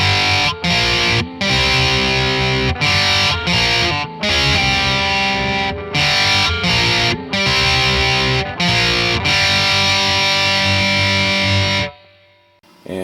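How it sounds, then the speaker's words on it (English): Electric guitar through an Ibanez TSA15H tube amp with a Boss GE7 boost and a Nano Holy Grail reverb, playing loud distorted hard rock riffs in chugging bursts separated by brief stops, ending in a short fading ring. "I have a Boss GE7 on as a boost pedal, and then the Nano Holy Grail with a little reverb."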